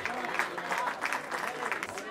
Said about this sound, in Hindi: एक जोरदार ताली होनी चाहिए इनके लिए,